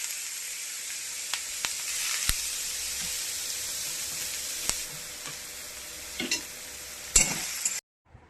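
Eggplant frying in hot oil alongside dried red chillies, a steady bright sizzle and hiss with a few sharp spits and crackles, close and alone, cutting off abruptly near the end.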